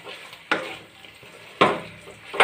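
A sizzling chilli-spiced curry is stirred in a pan, with two sharp scraping strokes cutting through a steady fry, close and alone.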